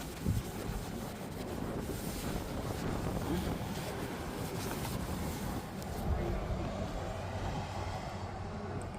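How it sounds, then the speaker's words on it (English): Strong gusty wind buffeting the microphone outdoors, a continuous roaring rush with no clear pauses. "It's a little windy out."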